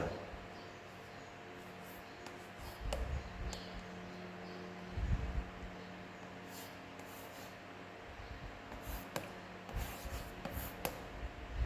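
Pen strokes scratch quietly as numbers are written by hand on paper, with soft intermittent rubbing and tapping, close and faint, without talk.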